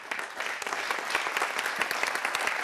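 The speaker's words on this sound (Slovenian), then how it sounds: "poskusimo zdaj z zlatim aplavzom" An audience at an award ceremony claps strongly on cue, a sustained, even roar of many hands with crisp individual claps mixed in, steady from start to finish and free of voices.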